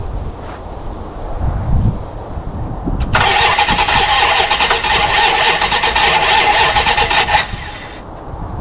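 A rarely seen 1974 Plymouth that sat for 20 years, engine cranking and catching with a loud, steady roar for about four seconds, rough popping backfires from mis-ordered plug wires, then cutting out; no talking.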